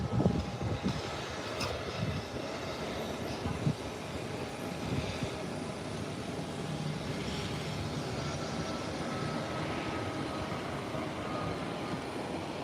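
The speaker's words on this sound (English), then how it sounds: "And here is JetBlue coming back. From the end of the runway, heading towards the parking gate." A JetBlue airliner taxis from the end of the runway toward its parking gate, a low, distant engine rumble holding steady with broadband hiss throughout.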